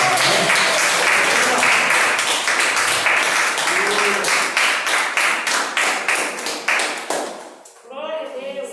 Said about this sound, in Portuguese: Uma salva de palmas para o nosso Senhor.